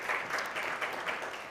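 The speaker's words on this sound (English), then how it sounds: "let's give them a round of applause" Congregation applauding a youth group returning from the 2022 National Youth Gathering. The clapping is steady and dense throughout, with no voices heard over it.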